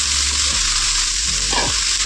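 Vegetables with jackfruit seeds are stirred in a hot pan for a Bengali chochori of rui fish head and pui shak, a loud close sizzle with scraping spatula sweeps partway through.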